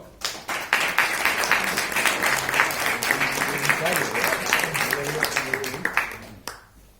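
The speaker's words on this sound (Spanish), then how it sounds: "Un aplauso." Audience applause at a poetry reading, a brisk burst of clapping that swells quickly, holds steady with some voices underneath, then stops abruptly.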